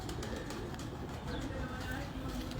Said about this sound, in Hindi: और ये मियां साहब वाले कबूतर जी हैं?